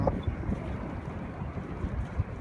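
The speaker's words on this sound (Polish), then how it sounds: "Wieje dosyć mocno" Strong wind blows across the outdoor Falun ski jump, a steady low rumbling buffet against the microphone with no other sounds.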